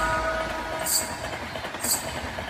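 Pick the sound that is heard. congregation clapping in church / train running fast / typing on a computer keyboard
train running fast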